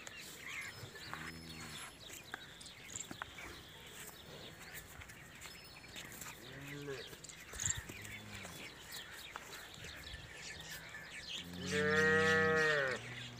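Jersey Friesian cross cows at a Punjab livestock sale moo in three separate calls, two short and fairly distant, then a louder, longer moo closer by, over quiet farmyard background with birds.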